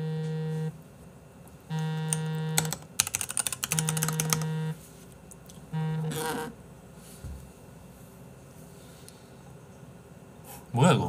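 Typing on a computer keyboard to open KakaoTalk on a PC: quick bursts of close clicking in the middle of the clip, with steady tonal hums before and after.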